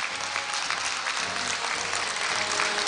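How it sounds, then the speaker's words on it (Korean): An audience at a Korea University degree conferment ceremony applauds steadily, a dense, even wash of clapping from a large crowd lasting the whole moment, with no speech over it. "여러분 박수로 축하해 주시기 바랍니다."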